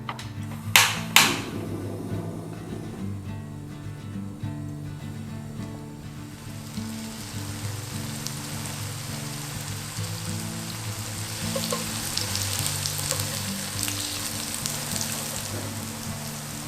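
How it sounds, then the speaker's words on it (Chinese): Tofu pan-fries in vegetable oil in a flat frying pan, browning to golden, with a steady close sizzle throughout and a couple of sharp utensil clacks near the start. "我们先把豆腐煎到金黄色，然后再把它拿出来。"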